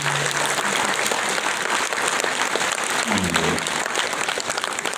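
A concert hall audience applauds steadily and continuously at a jubilee concert, a dense even wash of clapping throughout, with a voice briefly audible underneath.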